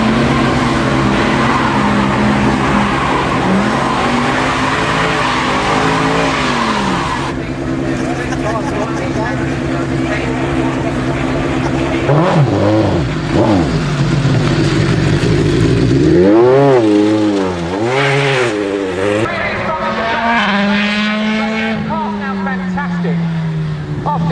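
Mercedes AMG and Euro F3 race cars lap the Brooklands circuit at a 2009 Mercedes-Benz festival, their engines rising and falling in pitch as they rev, brake and pass close by, under continuous commentary over a loudspeaker.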